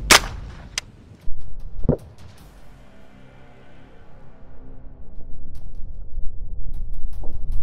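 A .22 long rifle fires at a ballistic helmet mounted on a test head, giving one sharp crack near the start and another strong report shortly after, followed by fading ringing and rustling background noise.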